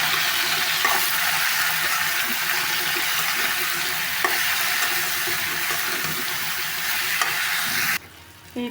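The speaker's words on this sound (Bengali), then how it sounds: "এই তো তরকারি ভাজা হয়ে গেছে" Cauliflower and potato curry with salt and turmeric sizzles loudly in a pan while being stirred, a continuous frying hiss with occasional scrapes that cuts off abruptly near the end.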